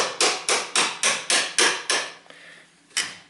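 A flathead screwdriver struck repeatedly with a hammer to knock a bolt free while cleaning an ABS sensor ring on a driveshaft: eight sharp, evenly spaced metallic blows, a pause, then one last hit, close and loud.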